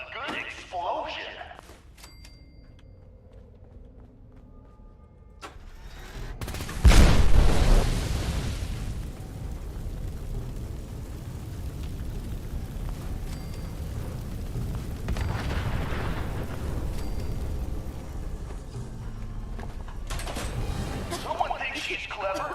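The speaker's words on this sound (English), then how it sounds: "Who doesn't love a good explosion?" A large blast goes off in the Fallout 4 video game, a sharp loud boom that rolls into a long rumbling, crackling roar and slowly fades under continuing noise, with talking heard around it.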